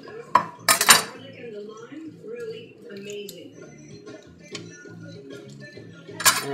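A knife knocks against a cutting board while rough-chopping cilantro, a few sharp clicks near the start and end with lighter taps between, under a person talking.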